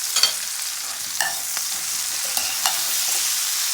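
Green beans seasoned with black pepper and salt being stirred in a hot pan, a steady close sizzle with a few sharp utensil scrapes and clicks against the pan, no voices.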